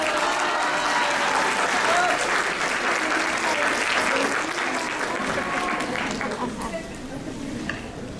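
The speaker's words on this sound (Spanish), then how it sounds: "Les pido un aplauso, por favor." A conference audience at an education congress breaks into sustained applause, dense clapping that carries on for several seconds before gradually thinning and fading.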